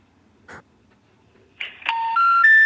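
Telephone intercept tones for a number not in service: after a brief earlier blip, three rising electronic tones step upward in sequence, loud and clear, with no voice over them.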